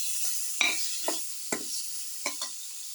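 Spices including chili powder sauté in a hot pan for a garlic, potato and split chickpea casserole, with a steady bright sizzle and several distinct scraping stir strokes spaced about half a second apart.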